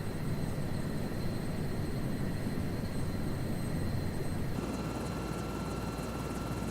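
A helicopter in Microsoft Flight Simulator 2024 drones steadily with a thick rotor and engine rumble under a faint whine, continuous and even, with no voices.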